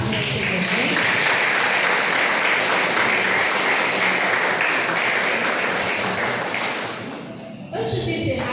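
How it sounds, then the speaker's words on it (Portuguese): A church congregation at a Sunday service breaks into dense, sustained applause that fills most of the stretch, then fades briefly before another sound rises at the end, with a voice mixed in beneath. "Eu sei que você pode aplaudir a mensagem da Senhor"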